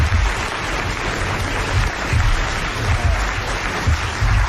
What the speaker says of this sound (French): allez applaudir comme elle le mérite, Madame le Prieur, d'Agon-Coutainville